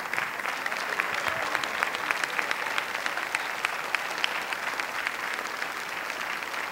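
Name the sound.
church audience applause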